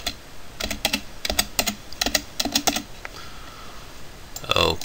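Quick bursts of keystrokes on a computer keyboard while a password is typed in, close and fairly crisp, in short irregular clusters with brief pauses, ending in a louder final flurry of keys.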